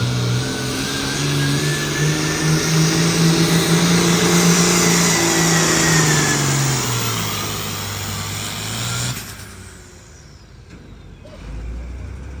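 Pulling tractor Rough and Ready at a truck and tractor pull, its high-horsepower engine roaring loud and sustained with rising pitch, then cutting off abruptly, leaving a quieter outdoor hum with a faint low rumble at the end.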